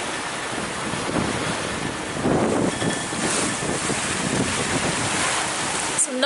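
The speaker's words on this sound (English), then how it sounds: "nice downwind sailing." Sailboat running downwind at 8 knots in strong wind on the Mediterranean, with a steady roar of wind buffeting the microphone and the rushing wash of waves along the hull throughout.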